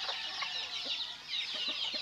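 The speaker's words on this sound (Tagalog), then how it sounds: "Maraming sisiw." Chickens and chicks kept on a small farm cluck close by in a soft, continuous chorus of short repeated clucks and peeps over a light background hiss.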